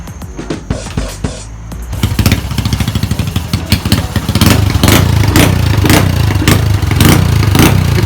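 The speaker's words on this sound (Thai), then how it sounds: "เดี๋ยวให้ฟังเสียงเตะคันเร่งสักนิดหน่อยครับ" Motorcycle exhaust being revved: a steady close, loud engine drone with repeated throttle blips that swell into sharper roaring pulses, rising toward the end.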